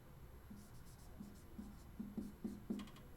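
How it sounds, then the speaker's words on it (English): A pen scratches quickly across paper while drawing a little picture of a tree with a treehouse, a series of short, faint strokes that come faster and denser toward the end, heard alone in a quiet room. "I'm going to draw a quick little picture"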